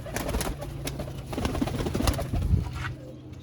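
Pigeons kept by a breeder coo close by in soft, repeated throaty calls over a low background hum.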